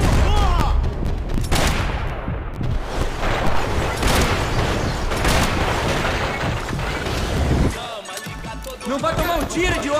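Rapid bursts of gunfire ring out in the shooter game Max Payne 3, loud and near with volleys of shots, while voices shout over the fighting.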